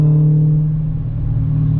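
A C7 Corvette Z06 fitted with an aftermarket exhaust rumbles at a steady, loud, low idle close by, with no voices over it.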